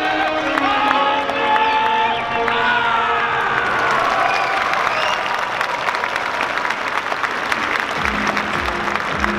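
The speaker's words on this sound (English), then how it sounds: "Huge round of applause for Socrates." An audience at a DreamHack 2022 cosplay contest breaks into loud sustained applause with cheers and whoops for a cosplayer, a dense wall of clapping and shouting that carries on through the stretch.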